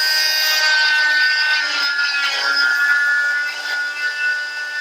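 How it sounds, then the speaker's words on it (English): A cast saw cuts through a fiberglass cast being removed from a custom AFO mold, giving a steady high-pitched whine with a gritty grinding edge that wavers slightly as the blade moves, close and loud. "once we cut it open with the cast saw."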